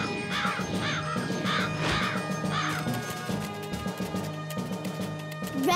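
Several crows caw in a children's cartoon, harsh repeated calls in quick bursts over a musical backing, fairly close and clear.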